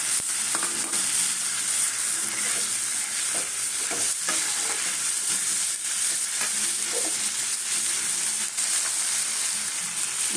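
Green chilies and meat sizzle in hot oil for Mughlai paratha, a continuous bright frying hiss with occasional stirring scrapes, close and steady without talk.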